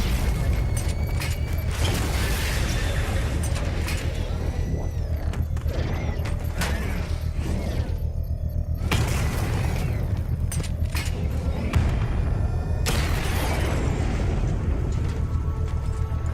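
Mechanical clanking and booming blasts from a drone being destroyed in Batman Arkham Knight, dense continuous game noise with several sharp impacts and bursts spread across the stretch.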